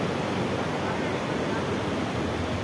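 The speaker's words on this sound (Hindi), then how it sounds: "ये है पिंडर नदी, ये पानी यहाँ तक पहुँच चुका है" Floodwater of the swollen Pindar river rushes in a dense, steady roar with no break over a few seconds.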